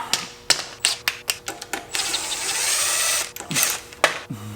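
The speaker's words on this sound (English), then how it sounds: "Tighten those with a ratchet" A hand ratchet tightens bolts on a power steering pulley of a 440 engine, giving a quick series of sharp close clicks and taps in an uneven rhythm, with a brief burst of steady mechanical whirring between them.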